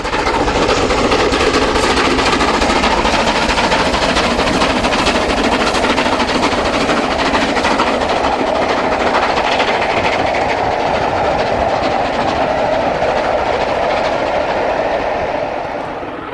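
Stanier steam locomotive 6201 hauls a train along the mainline at Buckhorn Weston on the former Southern Region, a loud, continuous roar of exhaust and rolling wagons with clickety-clack, steady throughout and easing slightly at the end.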